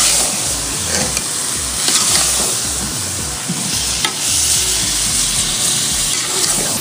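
Biryani masala being stirred into a frying mixture in a pot for Karachi-style biryani: a steady sizzle with repeated spoon scrapes and the wet churning of stirring.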